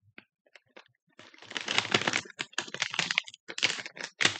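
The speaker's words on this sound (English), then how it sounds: "Let me get my scissors here to cut it." Crackly crinkling and snipping of a plastic snack bag being cut with scissors and torn, close up, in irregular bursts with brief pauses.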